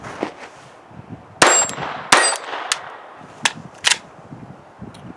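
Several sharp gunshots from a Glock 44 pistol firing .22 Long Rifle rounds at a range, irregularly spaced with metallic clangs and pauses between shots, close and loud with no talking.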